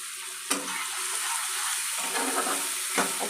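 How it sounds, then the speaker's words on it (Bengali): Tomatoes and ginger-garlic paste fry in a pan, giving a continuous bubbling sizzle while being stirred, with two sharp spatula knocks against the pan. "দিয়ে আমি নেড়ে চেড়ে নিয়ে লাল করে নেব।"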